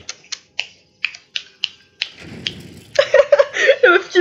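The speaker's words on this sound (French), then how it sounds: "Qu'il fait le rythme avec des claquements de" Crisp finger snaps tick out a steady rhythm, about eight sharp, close snaps in the first two seconds, then a voice starts talking loudly over them.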